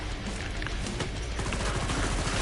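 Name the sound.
gunfire in the video game Killing Floor 2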